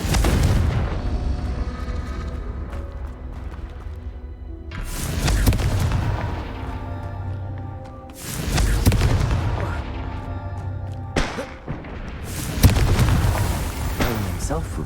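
Repeated Confringo blasting spell explosions in Hogwarts Legacy, four heavy booming blasts spaced a few seconds apart, each with a sharp onset and a rumbling decay, with softer game sounds in between.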